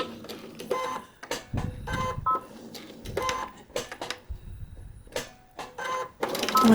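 A sewing machine stitches along a seam line for a quilting paper-piecing block, heard as short bursts of close mechanical whirring and clicking separated by brief pauses.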